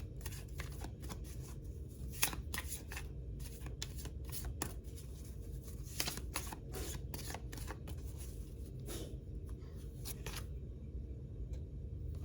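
Tarot cards are shuffled again and again for a general reading, a soft, close riffle of repeated papery flicks and slaps in steady bursts, with no talking.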